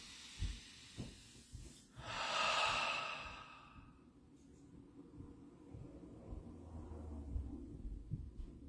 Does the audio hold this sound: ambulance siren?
no